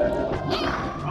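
A smash attack landing in Super Smash Bros. 64, a loud crunchy crash over a noisy tournament crowd, with excited commentary running underneath.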